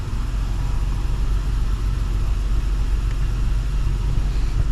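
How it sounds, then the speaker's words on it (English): A 2024-2026 Acura MDX engine idling, heard as a steady, continuous low rumble with no breaks, fairly loud and close, with no talking. "We're going to start the car."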